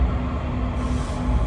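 Steady low rumble and roar of a subway train running underway in Switzerland, a continuous rolling noise with no voices.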